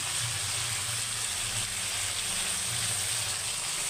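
Broiler chicken pieces frying in a pan with turmeric and chili powder, a steady loud sizzle that holds evenly throughout with no voices over it.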